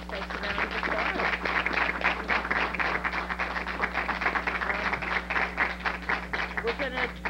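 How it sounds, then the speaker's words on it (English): Audience applause at a League of Women Voters town meeting in North Reading, steady dense clapping sustained throughout under a constant low hum. "Give this place a round of applause."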